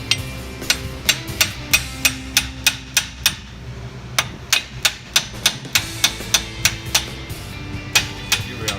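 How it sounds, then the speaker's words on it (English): Steady hammer blows strike a brake rotor to knock it loose during a brake and rotor install, about two per second, sharp metallic clanks repeating through the whole stretch with a short pause midway. "Got it a little bit loose by hammer."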